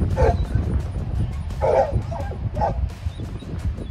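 A puppy, a gun dog, gives a few short yips and soft whimpers, close by, with low rustling and handling noise underneath.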